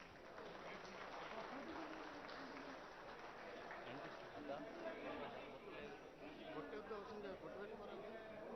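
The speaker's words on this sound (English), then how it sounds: "Can we have a round of applause, please?" An audience applauding at the groundbreaking ceremony for a new factory, a sustained wash of clapping mixed with crowd chatter, heard at a moderate distance.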